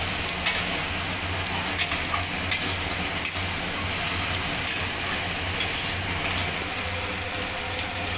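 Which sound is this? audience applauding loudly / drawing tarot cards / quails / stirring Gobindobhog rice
stirring Gobindobhog rice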